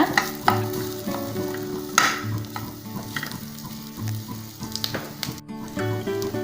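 Onions fry in a little oil for a curry leaf thuvaiyal, a steady close sizzle broken by the scrape and clack of a spoon stirring the pan at irregular intervals.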